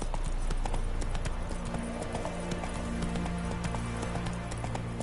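Horse hooves clip-clop steadily at a riding pace in a video game, a continuous close rhythmic beat over a busy ambient game soundscape.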